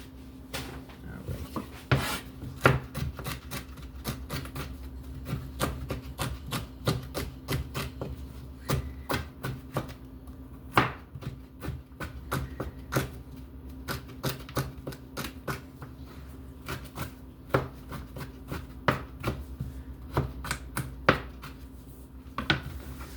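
A knife peels a broccoli stalk in a home kitchen, giving rapid, uneven scraping and tapping strokes against a cutting board over a steady low hum.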